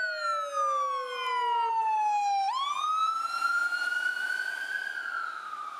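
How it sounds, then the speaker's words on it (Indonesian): A toy ambulance siren wails loud and close, a steady falling tone that drops then jumps to a new sustained pitch partway through, with no talking over it. "di sini ada mobil ambulan"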